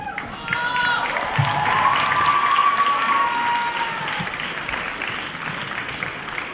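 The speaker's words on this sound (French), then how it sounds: "Des applaudissements, s'il vous plaît." A crowd applauds steadily for a musical duo, dense and sustained clapping with some faint cheering and a voice briefly heard under it.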